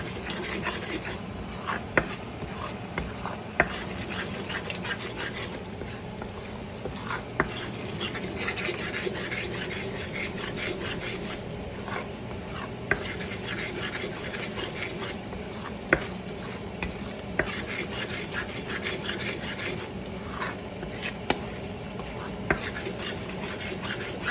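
Almonds and kamarkas being dry-roasted and stirred in a pan with atta for Punjabi panjiri, a steady close scraping and rustling with frequent small clicks of the spoon throughout.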